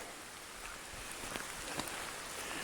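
Steady rain falls outdoors near Nuclear Lake, a continuous even hiss with faint scattered drop taps and no voices, holding at a constant moderate level throughout.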